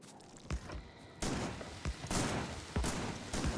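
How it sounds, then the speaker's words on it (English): Shotgun turrets in Factorio fire at attacking biters, a handful of separate booming blasts spaced irregularly over a soft background, fairly quiet and with no voices. "It'll blow up some biters. See how good these shotgun turrets are."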